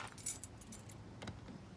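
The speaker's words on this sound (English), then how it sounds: "We've got a whole bunch of keys" A whole bunch of unidentified keys jangle and clink together outside a 1983 El Dorado RV, a burst of bright metallic rattling early on and a few lighter shakes later, close and fairly quiet with no talking.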